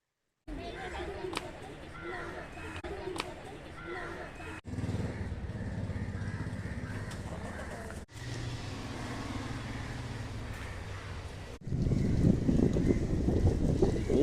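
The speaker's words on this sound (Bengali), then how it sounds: "মাঝে মাঝে শাঁ শাঁ করে এক একটা বোট বেরিয়ে যাচ্ছে মাছ ধরার ছোট ছোট বোট যাচ্ছে" Small fishing boats whoosh past one after another at the Fort Kochi port, a rushing engine-like roar rising and falling against steady wind buffeting the microphone, with voices in the background.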